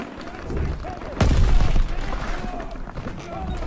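A loud, close gunshot blast with a heavy low boom in Call of Duty WWII, amid a dense wartime din of distant firing, with people talking over it.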